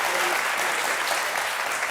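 Audience applause fills a debate hall, a loud, thick, continuous clapping from many hands that stays even and close for the whole moment.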